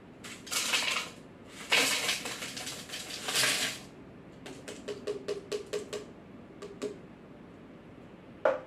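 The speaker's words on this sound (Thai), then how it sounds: "นำน้ำแข็งใส่ลงเครื่องปั่น" Ice cubes clatter into a blender jar in three loud rattling bursts, followed by a scattering of sharper single clicks as the last pieces drop in.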